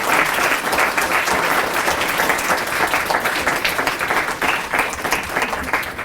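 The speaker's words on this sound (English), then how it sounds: "So I'd like you all to give yourself a round of applause" Fifth-grade student council members at a leadership summit give a loud, sustained round of applause, many hands clapping together in a dense continuous roar from start to finish.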